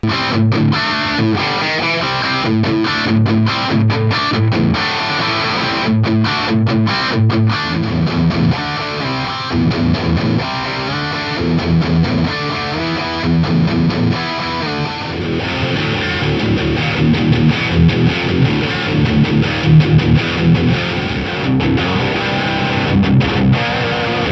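Heavily distorted electric guitar through a Headfirst amp pedal plays continuously for a long stretch, thick and loud with chugging riffs and sustained crunchy chords, no voices.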